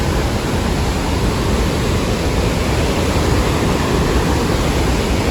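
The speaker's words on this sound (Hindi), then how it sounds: "पानी बह रहा है। ये कितना बड़ा नदी है, मतलब खोला है। ये लांगटंग रिवर कहते हैं इसे।" Langtang river in Nepal rushing in a steady, loud, unbroken roar of flowing water, close by and alone with no voices.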